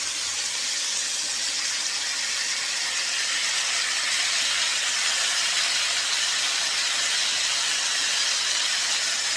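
Potatoes frying in about a tablespoon and a half of oil in a skillet give a loud, steady, unbroken sizzle that fills the whole stretch, close up and with no talking.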